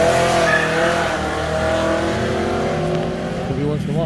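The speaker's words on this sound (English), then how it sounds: "Every once in a while, somebody's got to turn on their car a little faster." A car accelerates hard on a nearby street in a West New York residential area, its engine revving and climbing in pitch toward the end of a continuous, fairly loud roar.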